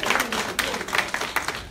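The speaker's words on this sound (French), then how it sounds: "Applaudissez les Kabiens." Audience clapping at a Togolese political meeting in New York, a scattered burst of hand claps with several sharper individual claps standing out, moderately loud and close.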